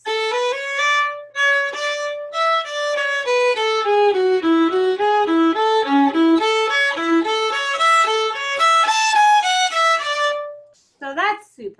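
A solo piano plays a Black and White Rag break in context: a lively ragtime run of bright, quick notes that climbs and falls before ringing out, up close and with no talking.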